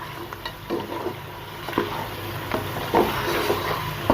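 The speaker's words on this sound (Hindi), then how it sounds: "इसकी हमने अच्छे तरीके से भुनाई करनी ताकि इसमें सारी स्मेल खत्म हो जाए।" Mutton karahi sizzles and fries in a pan while a spoon stirs it, with a steady close sizzle broken by repeated scraping strokes.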